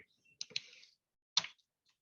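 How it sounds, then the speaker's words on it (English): Computer keyboard typing during a software class, a few quick clusters of crisp clicks separated by silence, close and fairly quiet. "That's why I'm typing."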